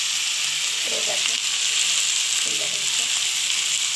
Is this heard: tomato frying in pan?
yes